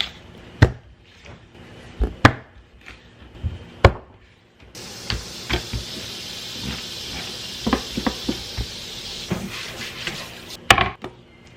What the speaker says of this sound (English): Rinse it and chop off this head and cut it evenly.